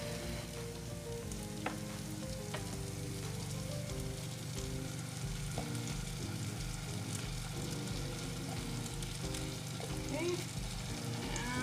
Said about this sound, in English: We're gonna put in the broth concentrate.